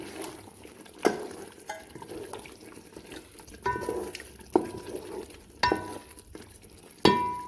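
Yogurt mixed with crushed garam masala for a Punjabi chicken pulao, stirred in a pot with wet squelching swirls and several sharp spoon knocks against the rim, close and without talk.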